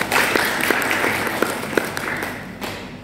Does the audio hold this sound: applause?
yes